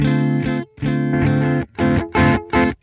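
A Minotaur overdrive effect on a Line 6 Helix Stadium XL is switched on, heard as loud, distorted electric guitar chords struck in several separate bursts with brief gaps of silence between them.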